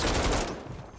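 A small golden pistol fires in a video game, a rapid burst of close, loud shots that ends abruptly after half a second and leaves faint residual noise.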